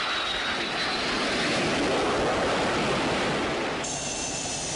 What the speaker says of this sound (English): The Corps fields high-performance jet aircraft, such as the FA-18 Hornet Strike Fighter.